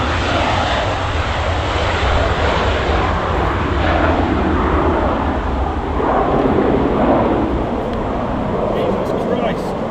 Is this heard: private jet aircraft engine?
yes